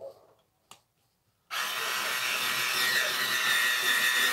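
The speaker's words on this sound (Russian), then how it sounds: "Вот нормально сверлит," A Hyundai cordless screwdriver drilling, close and fairly loud, starting suddenly after a short quiet pause with a small knock and then whirring steadily to the end.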